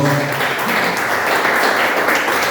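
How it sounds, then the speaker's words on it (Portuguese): A church congregation applauds at a garage worship service, a steady broadband wash of clapping filling the whole stretch at fairly close range, with a faint voice underneath at the start. "Pode aplaudir o Senhor."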